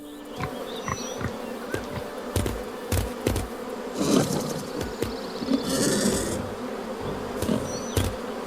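Bees in the video game Lost Lands 9 drone in a steady, continuous buzz, with scattered clicks and thuds from the game and a brief louder swell in the middle.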